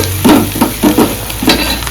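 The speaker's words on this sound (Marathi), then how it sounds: "आणि आता तेजपत्ता टाकले मम्मीने." Bay leaves go into hot oil with onions and spice masala in a home kitchen, sizzling in short bursts as the pan is stirred, several scraping pulses close up and loud.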